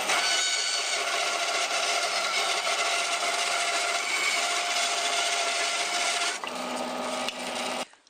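A bandsaw cuts steadily through the end of a wood block, a loud, continuous rasping buzz up close that changes tone near the end as the cut finishes and then stops.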